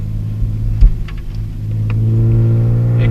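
A car fitted with aftermarket sway bars sweeps quickly left then right through a pair of turns, its engine humming steadily and swelling under load, with a few light knocks along the way and no talking.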